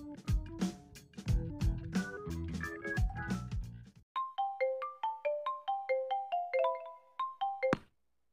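A phone ringtone from the game Tennis Rivals plays first as a full, busy melodic passage. It then turns into a clear sequence of bright, evenly spaced chime notes before stopping abruptly, loud and with no talking.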